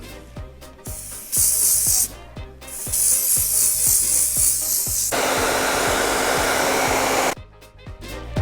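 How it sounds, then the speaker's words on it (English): Hairspray hissing from an aerosol can onto hair while a 1940s pageboy style is set: short bursts and then one long steady spray of several seconds, close, over a background of rhythmic clicking and a hair dryer-like whir. "A little bit of hairspray."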